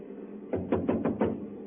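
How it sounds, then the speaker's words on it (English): Knocking on a door as a sound effect in a 1943 wartime spy radio drama: about five firm, evenly spaced raps, close and fairly loud, following a brief quiet pause, with no talk over them. "First of all, we'll try rapping on the door."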